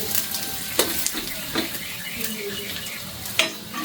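Rice with ginger is stirred in a pan over heat, with scraping utensil strokes at uneven intervals over a soft, steady sizzle, close by.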